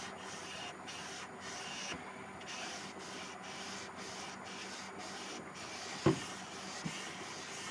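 Steady rubbing and sanding-like scrubbing as acetone and a cloth work the finish off a Gibson Flying V guitar body, a continuous close, moderately quiet swishing with one sharper knock near the end.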